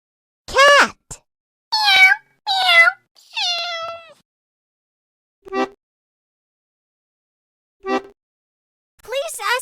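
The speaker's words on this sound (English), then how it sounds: "Cat." A cat meows several times in a game of animal sounds, a run of loud, clear cries followed by quieter, shorter meows spaced apart and one more at the end.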